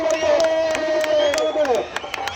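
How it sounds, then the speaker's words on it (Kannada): Spectators at a village wrestling match cheer and whoop loudly over continuous crowd noise, with scattered clapping and a sustained shout rising above the din. "ಚಪ್ಪಾಳೆ ಬರಲಿ ಚಪ್ಪಾಳೆ ಎಲ್ಲ ಪ್ರೇಕ್ಷಕರು ಜ್ವರ ಚಪ್ಪಾಳೊಂದಿಗೆ ಚಪ್ಪಾಳೆ ಬರಬೇಕು"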